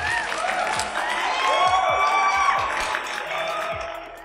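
Applause and cheering from a studio audience greet a singer on a comedy show, with clapping, whoops and shouts rising in the middle and easing off, accompanied by sliding tonal sounds.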